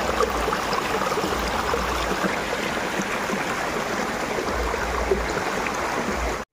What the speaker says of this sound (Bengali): ছোট্ট একটা জলের ধারা।